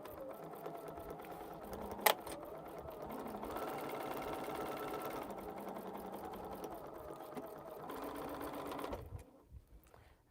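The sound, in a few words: sewing machine stitching a quilt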